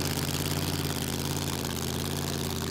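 A supercharged Hemi Pro Mod drag racing engine, loud and close, holding a dense, steady, harsh mechanical roar throughout without a clear rise or fall.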